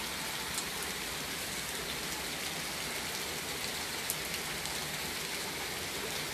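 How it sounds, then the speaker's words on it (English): Heavy rain pours down in a dense, steady hiss with no voices. "Now it's raining even harder, you know."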